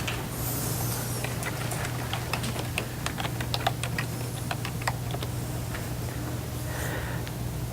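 Quick keystrokes tap out a web address on a computer keyboard, a close, fairly quiet run of irregular clicks over a steady low hum.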